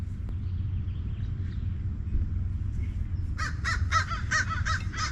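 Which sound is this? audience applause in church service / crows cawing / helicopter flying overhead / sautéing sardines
crows cawing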